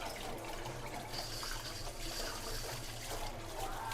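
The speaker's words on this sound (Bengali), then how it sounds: "এই ধনে পাতা ধুইতেছে" Tap water runs steadily into a sink while coriander leaves are washed in a home kitchen, a continuous moderate splashing hiss with no voices.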